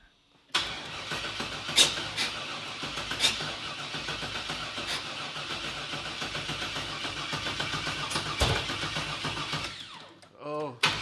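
A project car engine cranks and then fires up for its first start, rough rhythmic turning followed by a running engine, with people talking over it.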